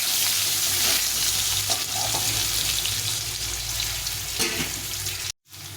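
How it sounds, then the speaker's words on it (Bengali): Potatoes frying in oil for a light vegetable fish curry, a loud continuous close sizzle with some stirring clatter and a sudden brief cutoff near the end. "এখন আমি আলুগুলো ছেড়ে দেবো। তখন একটু আলুগুলো দিয়ে নিয়ে ভেজে নেবো।"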